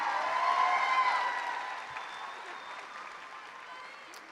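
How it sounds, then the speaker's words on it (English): Audience applause at a Renton High School graduation ceremony, a broad wash of clapping that is loudest at the start and gradually fades, with a faint tonal hum running beneath it. "Can we please give another round of applause for Ms."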